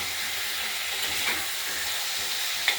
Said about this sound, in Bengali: এতে আলু ভাজার রংটা ভালো হয় একটু নাড়াচাড়া দেবো